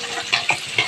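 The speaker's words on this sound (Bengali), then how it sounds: "এই কড়াইতে আমি উচ্ছে আলুটা ভেজে নেবো।" Bitter gourd and potato pieces frying in oil in a wok, a steady close sizzle with three brief brighter bursts as the pieces are stirred.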